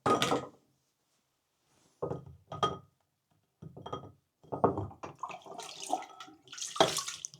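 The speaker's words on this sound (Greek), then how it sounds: "Το γεμίζετε με νερό και πετάτε το κινητό μέσα." A mobile phone drops into a bowl filled with water during cleaning, giving sparse close knocks followed by splashing and sloshing that turns busier toward the end, with quiet gaps between.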